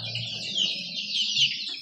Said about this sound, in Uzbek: 32 kunlik jo'jalar.